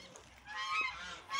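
Geese honking inside a poultry barn, a faint cluster of nasal calls overlapping against a quiet indoor background.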